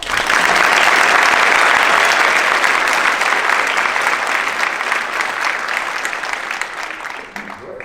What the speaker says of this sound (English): Please help us thank Mr. Woe and the tech students with a big round of applause